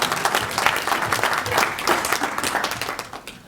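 Audience at a university stakeholder report event breaks into applause, a full, even burst of many hands clapping that tapers off toward the end.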